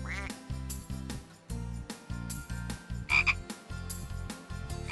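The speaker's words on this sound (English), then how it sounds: "A duck!" Cartoon pond sound effect of a duck quacking loudly up close, with a rapid series of bright, rhythmic nasal calls and no talk over them.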